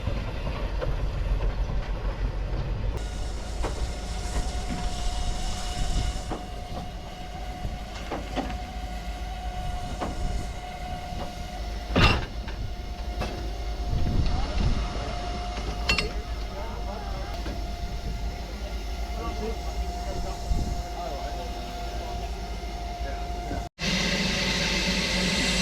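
A train rolls into Caernarfon station on the Welsh Highland Railway with low rumbling and rhythmic clatter of wheels, a faint steady tone and occasional clanks over background murmur.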